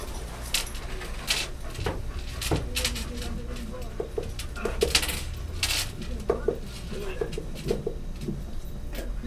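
Metal spoons are handled and knock together, giving a steady run of bright clinks and jangles up close, with a few louder knocks amid shuffling and light background noise.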